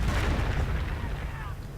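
Firestorm artillery strike in a real-time strategy battle game: heavy, rumbling booms and blasts roll together in a continuous loud barrage.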